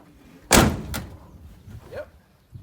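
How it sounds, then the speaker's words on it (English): The door of a 1964 GMC grain hauler truck is opened, a loud metallic clunk followed by a second lighter knock and a brief creak, close with quiet surroundings. "Will the door open?"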